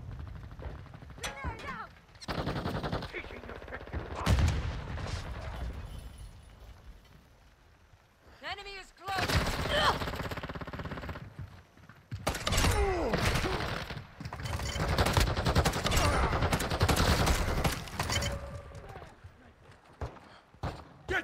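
Scattered video game gunfire in a shooter firefight, with bursts and single shots mixed with shouted voices, footsteps and other battle noise at moderate loudness throughout.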